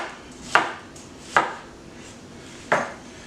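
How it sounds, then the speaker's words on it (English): Knife chopping an onion on a cutting board, three separate crisp thuds spaced unevenly apart, close and clear over a quiet room. "just simply use the knife in a nice forward motion. Use the whole blade."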